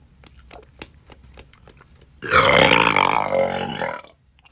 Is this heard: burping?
yes